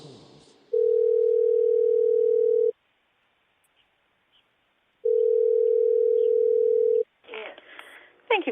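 An outgoing telephone call rings with two long, steady electronic tones separated by a silent gap, then the line picks up and a brief voice begins at the end.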